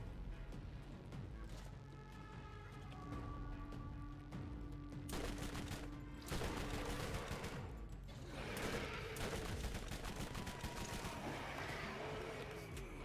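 In the video game Borderlands, SMG bursts rattle over a busy mix of game effects and engine-like rumble, with repeated rapid volleys of moderate loudness and no talking.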